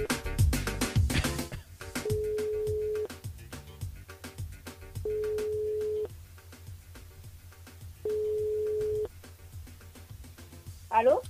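Radio call-in line ringing while a caller's mobile number is dialed: three long, evenly spaced ring tones with silent gaps, framed by brief studio noise at the start and end.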